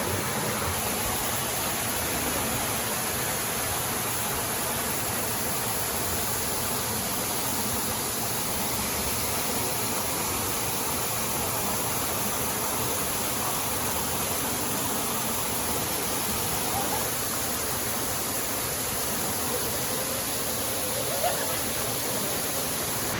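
The waterfall and stream at Secret Falls pour with a dense, constant rush of water, loud and close, filling the whole stretch with steady hiss and roar and no breaks.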